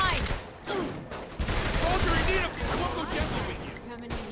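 Gunfire in Saints Row 3, rapid bursts and volleys of shots crackling close and loud, with character voices speaking between and over the shooting.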